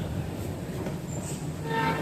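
A train rumbles steadily nearby, a continuous loud broadband roar with faint tonal whistling near the end and no voices.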